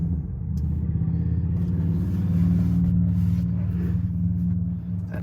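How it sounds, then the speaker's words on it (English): A 2008 Land Rover LR3 engine turning over and settling into a steady, low idle rumble, close and continuous with no talking. "start the vehicle."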